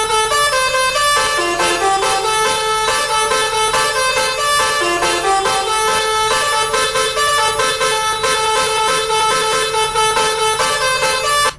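A loud custom musical horn on a luxury bus in Euro Truck Simulator 2 plays a sustained melodic tune of bright, stepped tones, continuous and dominant throughout.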